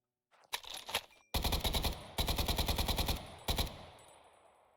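AK and AKM rifles fire in a roleplay video game as rapid automatic bursts, loud and close, in several separate strings with brief pauses between them.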